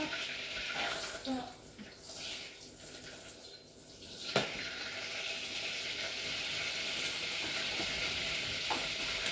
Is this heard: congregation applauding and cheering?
no